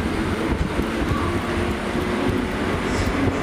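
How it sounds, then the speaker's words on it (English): Train number 452 pulls out of Cardiff Central station, a continuous broad rumble of wheels and engine heard close and steady with faint rail clatter, no clear talk. "Here he is, number 452,"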